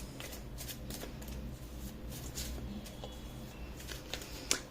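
Tarot cards are shuffled close by, a soft, steady papery riffling and sliding with small crisp snaps, quiet and alone without talk.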